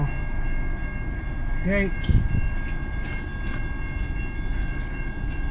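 CN M383, a southbound freight train in Richmond, Michigan, passes with a loud, steady rumble and rolling clatter; a voice briefly speaks over it.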